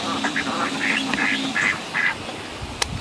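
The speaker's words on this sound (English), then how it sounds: "The ducks are always laughing at me." Several ducks quacking nearby in a garden, a run of short nasal quacks in quick bursts, fairly loud, followed by a couple of sharp knocks.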